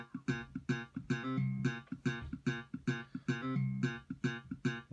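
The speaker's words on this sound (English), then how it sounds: "So I put in this slap bass thing" A slap bass line plays alone, its punchy, percussive plucked notes repeating in a steady funky rhythm, close and fairly quiet, with no voices.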